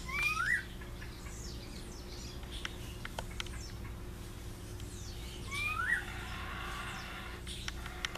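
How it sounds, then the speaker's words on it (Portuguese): A rufous-bellied thrush gives two brief, faint song phrases a few seconds apart outdoors, with other soft chirps scattered over a low steady hum. "Sabiá laranjeira, meu irmão."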